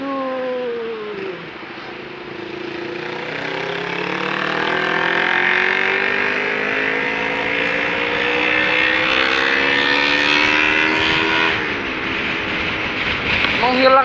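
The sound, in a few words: Yamaha NMAX scooter riding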